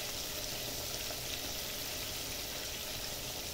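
Catfish fry in hot oil in a pan cut down from a pressure cooker, giving a steady, dense, close sizzle that continues without a break.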